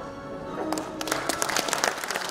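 Applause from a ceremony audience of disabled veterans at a Korean veterans' association anniversary event, rising from a murmur into a steady crackle of many hands that continues to the end.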